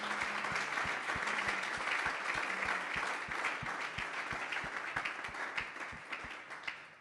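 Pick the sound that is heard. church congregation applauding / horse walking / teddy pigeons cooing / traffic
church congregation applauding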